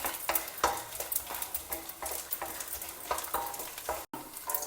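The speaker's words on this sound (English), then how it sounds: "Let it fry very well. You can see it becomes crisp and puffs up like this in size." Gond, edible gum, fries in ghee with a close, bubbling sizzle broken by frequent rhythmic stirring scrapes and light crackles, fairly quiet overall with a brief cut near the end.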